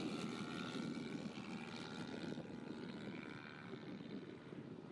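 Electric model airplane flying Immelmann turns and loops at a demo flight, a steady broadband motor and airflow drone holding level and fairly distant throughout.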